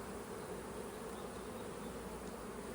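Honey bees buzz steadily inside an open beehive whose queen has crossed the excluder, a dense, continuous hum of many insects close by, unbroken for the whole stretch with no voices.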